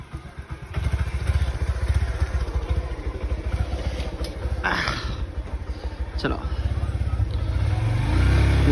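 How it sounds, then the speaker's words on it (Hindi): A car driving at over 60 km/h, its steady engine and road noise running throughout, rising slightly louder toward the end. "गाड़ी 60 से ऊपर ही रहा है।"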